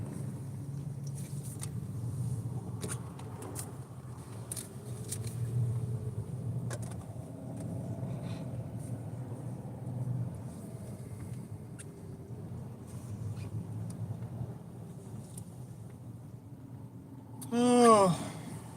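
Steady low rumble of passing road traffic throughout, with occasional clicks and a brief rising squeal near the end.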